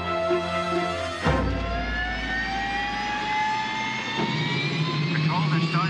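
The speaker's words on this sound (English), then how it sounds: "They're starting the engine. They're firing up." Aircraft jet engine starting up on a hijacked airliner in a 1985 action film, a loud rising whine that climbs steadily over a deep rumble, with a sharp burst of low roar near the start.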